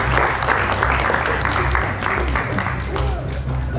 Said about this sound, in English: please give a huge applause for this author